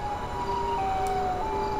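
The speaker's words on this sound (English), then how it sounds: "There's alarms going on." Alarm sirens blare inside the game GTA 5, a steady, wailing tone stepping between pitches and repeating at moderate loudness over a faint background hum.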